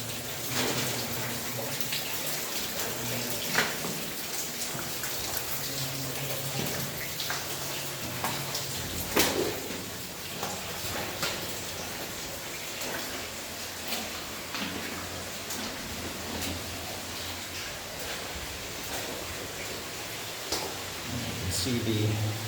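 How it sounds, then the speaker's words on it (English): Water seeping and dripping through the walls and ceiling of an abandoned gold mine dating from 1900: a steady hissing trickle with scattered louder drips echoing throughout. "We're kind of back by where all that water is coming in through the walls and ceiling."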